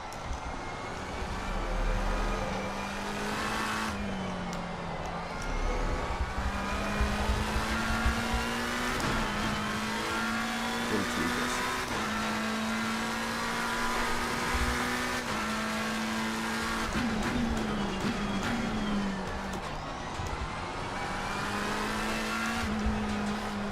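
Race car engine in Assetto Corsa Competizione, a steady high whine rising and dropping through gear shifts over a lap, with tire squeal through corners, loud and close with no talk.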